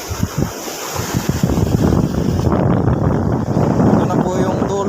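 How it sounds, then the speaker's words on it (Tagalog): Heavy sea surf crashes and churns continuously at a seawall in San Fabian, with strong wind buffeting the microphone and a faint voice buried in the roar. "Grabe yung alon, no?"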